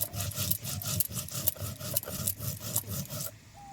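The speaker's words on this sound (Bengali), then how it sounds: "জিরে আর আদা একসঙ্গেই বেটে নেব" Cumin and ginger ground together on a grinding stone: steady, rhythmic back-and-forth scraping strokes, close and fairly loud, about four per second, stopping just before the end.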